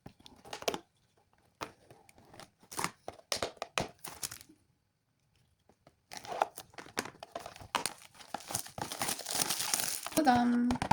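A packaged item is opened up close, giving bursts of crinkling and tearing wrapper with taps and small cracks, separated by quiet pauses and followed by a denser stretch of rustling, while a person speaks at times.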